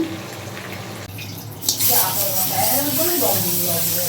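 Chicken tikka pieces fry in a pan with a steady, close hiss and crackle that swells louder after a brief dip, running continuously throughout.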